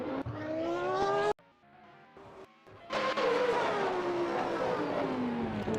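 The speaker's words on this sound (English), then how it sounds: "He's trying to overtake the Lotus and he locks up." A race car revs hard, then cuts off abruptly as its wheels lock up while trying to overtake a Lotus during practice at a South African round. A brief quieter gap follows, then a loud roaring pass of engine noise.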